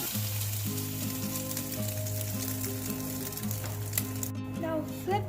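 Egg-soaked bread for French toast frying in a pan, a steady close sizzle running under louder tonal music throughout.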